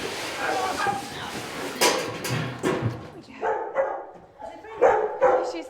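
Dogs bark and yip repeatedly in the quarantine dog wing of an airport animal reception centre, with sharp, close barks in irregular bursts and a whimper mixed in as people talk nearby.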